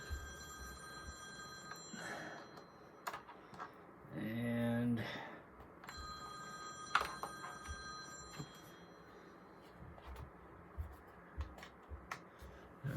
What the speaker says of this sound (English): I'll answer the phone later.